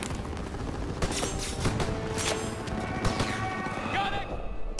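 Rapid automatic and rifle gunfire in the World War 2 shooter game Call of Duty WW2, a continuous dense fusillade of shots with sharp cracks throughout, and a voice talking over it.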